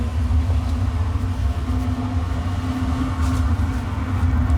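A vacuum cleaner's motor roars in a steady, unbroken drone with a strong low hum, loud and close, with no talking; its exhaust serves as the blower for a waste oil boiler burner.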